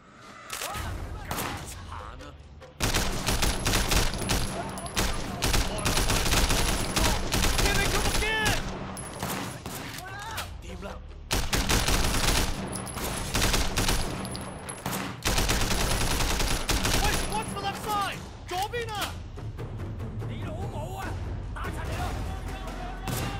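Dense, sustained gunfire from the Sleeping Dogs video game rattles almost nonstop, with loud overlapping bursts, crashes and shouting voices mixed in, broken by a few brief pauses.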